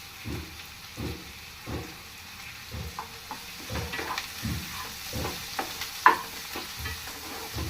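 Curry leaves with green chilies and onions frying in oil, a gentle continuous sizzle punctuated by repeated stirring scrapes and light clanks, close and fairly quiet, no voices.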